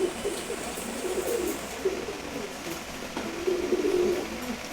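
A mated pair of pet pigeons, a male and a female, coo softly and repeatedly in low rolling phrases, close by and alone with faint background hiss.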